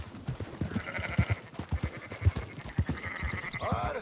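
Sheep in the Red Dead Redemption 2 video game bleat repeatedly in a dense, overlapping flock, with irregular calls close by over a steady background of game ambience.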